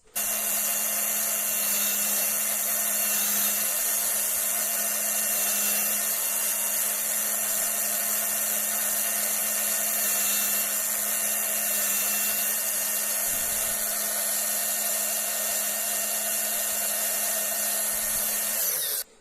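An angle grinder sharpens a drill bit in a wooden jig, a continuous loud high-pitched whine with a harsh grinding hiss, steady and close for the whole stretch.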